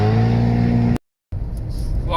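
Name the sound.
car driving on motorway, heard from inside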